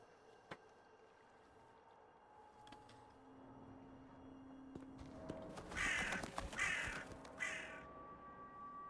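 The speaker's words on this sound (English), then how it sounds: "Ominous black crows with red eyes." Ominous black crows with red eyes in the video game Wuthering Waves give harsh caws, three loud calls in quick succession after a quiet stretch with faint ambient game sounds.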